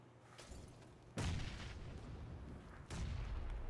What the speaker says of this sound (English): They're throwing grenades up to you.